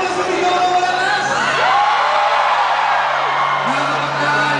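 A large crowd of young people shouts and whoops loudly at a rally against the RH Bill, rising cheers and yells filling the space with a steady low hum underneath.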